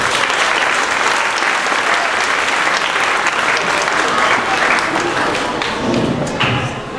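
Enthusiastic audience applause at an elementary school spring band and orchestra concert, loud sustained clapping from a full room that tapers slightly near the end, with some murmured voices mixed in.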